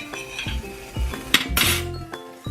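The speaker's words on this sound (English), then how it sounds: "Now I'm going to put it on my plate." A pan and plate clatter and clink in a kitchen as breakfast food is plated, with a series of sharp metallic and ceramic knocks, one louder scrape, close and alone without talk.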